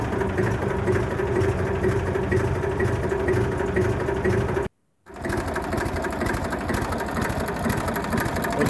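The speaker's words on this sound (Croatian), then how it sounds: "Traktor kada je zagrijan, toplo je vrijeme, treba da upali bez dodavanja gasa i bez upotrebe grijača." A warmed-up tractor engine runs steadily at idle in warm weather, a close, loud, rapid mechanical chatter that cuts out abruptly for a split second and then resumes unchanged.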